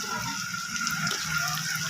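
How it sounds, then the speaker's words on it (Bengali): A little water poured into ginger, garlic, cumin and chili paste frying with browned onion in a pan for a bottle gourd and prawn curry, a steady soft gushing splash close up, with no talk. "মশলাটা লেগে না যায় তার জন্য আমি একটু জল দিয়ে দেবো হালকা করে"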